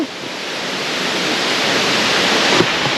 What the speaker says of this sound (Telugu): వాటర్ ఫాల్స్ అయితే చాలా అంటే చాలా బాగున్నాయి చాలా ఫాస్ట్గా కూడా వస్తున్నాయి